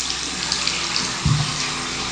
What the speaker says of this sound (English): I'm going to turn the water on, so we're going to turn it towards the right hand side